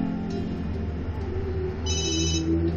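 A telephone rings once with a short electronic trill over a low steady hum, with no talking.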